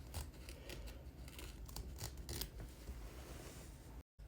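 Scissors cutting fabric close to the stitch line of an in-the-hoop peppermint ornament, giving quiet repeated snips and rustling trims at close range with no talk.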